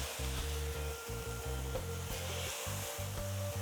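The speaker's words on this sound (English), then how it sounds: "Now this is going to cause it to get a really nice sear on it." A thin beef burger patty sears in a hot pan with a steady, even hiss. The sizzle sits beneath louder, choppy background music throughout.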